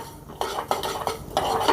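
Cumin and fenugreek seeds roasting in a pan, stirred with a spoon in a few quick scraping, rattling strokes, close and clear with no talking.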